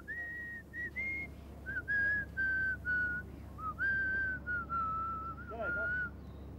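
A person whistles a slow, wavering tune, holding long notes, with a steady low hum of background noise underneath.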